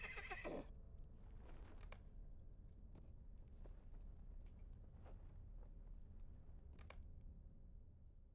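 A horse from the fantasy series Rings of Power whinnies once, loud and close, at the very start, followed by quieter hoof clatter and scattered thuds under a steady background rumble.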